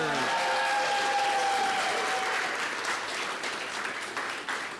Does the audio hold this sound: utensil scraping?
no